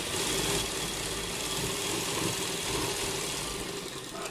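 Sewing machine stitching the neckline of a kurta alongside the buckram stiffener: a steady, continuous mechanical whirr and hum with faint rattling, running unbroken at close range with no talking.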